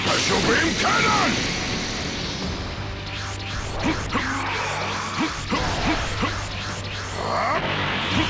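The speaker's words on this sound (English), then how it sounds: "Special beam cannon!" Energy-beam attack sounds from Dragon Ball Z Kakarot, with loud whooshing blasts, crackling sweeps and a steady low hum running through the whole stretch, layered with battle effects.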